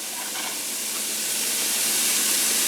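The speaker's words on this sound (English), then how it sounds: "I want to release the fond off the bottom of the skillet there." Skillet being deglazed for a pork and Hatch chili stew, liquid hitting the hot pan in a broad, steady steam hiss that swells slightly louder over a few seconds. No voices.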